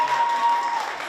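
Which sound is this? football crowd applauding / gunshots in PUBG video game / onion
football crowd applauding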